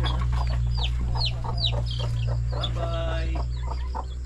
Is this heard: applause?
no